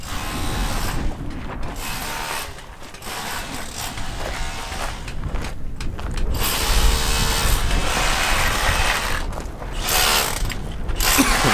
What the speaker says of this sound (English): it's so noisy with those rotary hammers